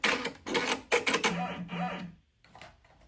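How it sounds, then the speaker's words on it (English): An embroidery machine runs its lock-and-cut thread trim, giving a short burst of mechanical whirring, clicks and a rising motor whine, then a brief quiet and a faint final click. "I'm going to click lock and cut to cut that fabric."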